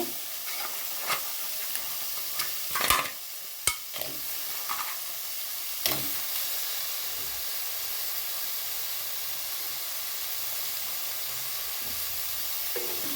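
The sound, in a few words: crab added to a pan with tomato, sizzling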